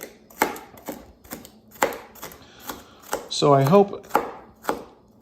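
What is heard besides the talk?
knife dicing green pepper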